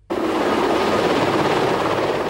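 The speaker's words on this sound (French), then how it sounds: "Paris a eu droit ce matin à un véritable balai d'hélicoptères." Helicopters fly over Paris, a dense, loud rotor and engine roar that starts abruptly and then holds steady and continuous, with no speech.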